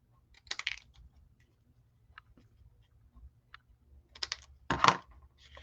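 Scissors trimming card stock, a few quiet crisp snips and paper rustles spread unevenly through the clip, with a louder cluster of cuts near the end, close and faint in a quiet room.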